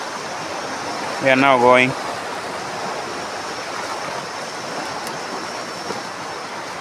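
Steady broadband rush of the Kuja River flowing in a Kenyan blue gum forest, continuous and moderately close, with a short burst of speech near the start.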